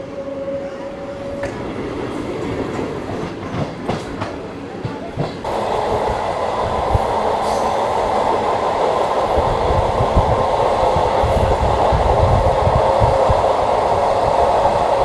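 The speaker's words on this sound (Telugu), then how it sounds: "మన ట్రైన్ అయితే ఖమ్మం రైల్వే డిపార్ట్ అయిపోయిందండి" A MEMU passenger train pulls out of Khammam railway station. Early clanks and brief tones give way to a loud, steady rumble and rolling wheel noise that builds and holds, close up, with no voices.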